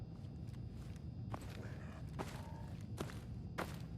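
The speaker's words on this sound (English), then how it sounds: "I always try and walk on gravel because that gives the nicest footstep sounds" Footsteps crunching on gravel in Fallout 4, several distinct steps spaced about half a second apart, moderately loud over a steady hiss of ambient game background.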